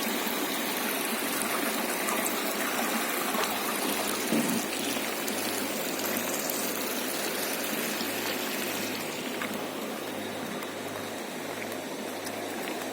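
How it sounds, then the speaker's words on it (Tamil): Continuous rushing flow of water through a sewage treatment plant tank, a steady broadband wash with a low mechanical hum underneath, unbroken throughout. "இங்கேயே தண்ணி போய்கிட்டு இருக்கு"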